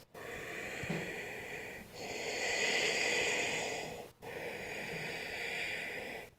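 Slow, steady breaths during a yoga session, long airy inhales and exhales drawn in close, even cycles with short pauses between them.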